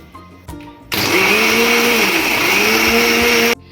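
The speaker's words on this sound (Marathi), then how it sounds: "चला आता आपण झाकण लावून भांड्याचं मिक्सरवर फिरवून घेऊ" A kitchen mixer blender whirs loudly as it blends a mango shake, starting abruptly after a few handling clunks, running steadily with slight pitch dips for nearly three seconds, then cutting off.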